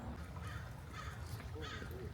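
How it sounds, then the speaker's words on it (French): A crow caws a few times in the background by an old fairy-tale style house in Los Angeles, its calls set over a steady low rumble of outdoor noise. "avec le corbeau en fond qui croasse, en mode Halloween"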